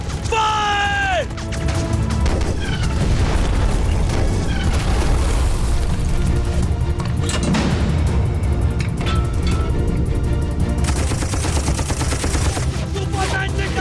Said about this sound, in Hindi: दुश्मन का टैंक फायर!